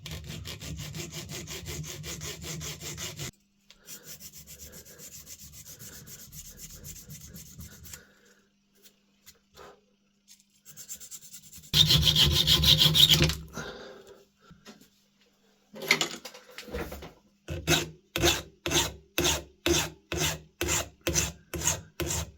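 Filing or sawing a new slot into a small screw for an antique pocket pistol, heard as bursts of rasping strokes, ending in a steady run of about a dozen evenly spaced back-and-forth cuts, close and fairly loud.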